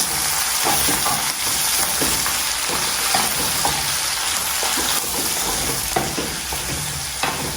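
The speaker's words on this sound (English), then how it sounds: "the next step will be to add your tomatoes. Then you stir, guys." Tomatoes and pork wet-fry in a pan, a loud steady sizzle and bubbling hiss close by, broken by repeated scrapes and knocks of a spoon stirring through the mix.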